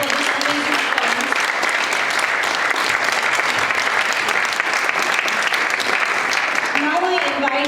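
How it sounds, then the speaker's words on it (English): A roomful of people at an International Mother Language Day student event applauds after a performance, a continuous, even roar of clapping lasting the whole stretch, with a voice briefly talking at the start and again as it fades. "Can we have a big round of applause for this amazing performance?"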